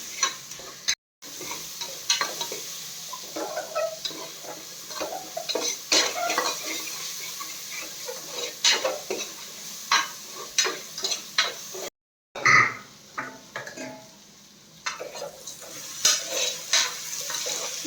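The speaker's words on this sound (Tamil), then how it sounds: "கருவேப்பிலை கொஞ்சம் அப்படியே வாதங்கட்டும்" Curry leaves and green chillies frying in a pan of sundal, a chana snack, while a spoon stirs them: a steady soft sizzle runs under repeated scraping and clinking of utensil against pan, with no talk.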